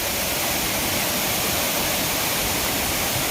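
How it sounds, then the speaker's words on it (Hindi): Badhkhaman waterfall in monsoon season: water pours down from high above in a dense, steady roar that fills the whole moment, broadband and constant with no break. "देख रहे हैं झरना पूरा ऊपर से गिरती हुई ये पानी।"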